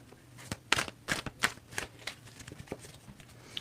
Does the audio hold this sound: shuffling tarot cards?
yes